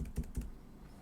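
Code is tapped out on a computer keyboard in a short burst of a few quick, close keystrokes, followed by quiet.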